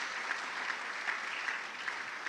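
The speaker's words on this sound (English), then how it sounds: "with a big round of applause" Audience at a university e-learning week event gives a round of applause, dense and even clapping filling the whole moment without a break.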